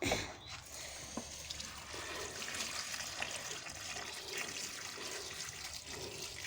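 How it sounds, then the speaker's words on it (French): Water poured from a full watering can, about ten litres, into a fertiliser mix for tomatoes, garlic and shallots inside a greenhouse, a steady continuous splashing pour that runs the whole time with no talk. "je vais ajouter au moins 10 litres d'eau"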